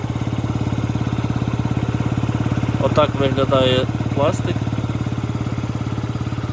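A Yamaha Jog SA39 scooter, a Japanese import, idles close by with a steady, even engine putter throughout, while someone speaks briefly over it.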